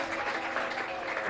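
A church congregation claps and cheers in a dense, steady wash of applause that fills the brief moment without a break.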